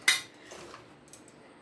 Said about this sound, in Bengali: সব ঢাকাগুলো খুলে দিচ্ছি